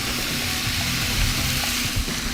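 Steady sizzling and frying of tomatoes added to charred onions in a hot pan, a constant crackling hiss with a few soft bumps of stirring, close and fairly loud, no voices.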